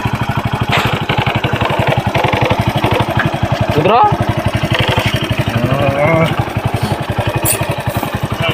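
A motorcycle engine runs close by, its fast, even thumping pulses continuing throughout at a steady loud level, while people talk over it.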